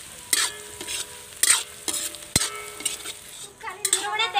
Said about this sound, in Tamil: இந்த மாதிரி நல்லா வணக்கி எடுத்துக்கணும்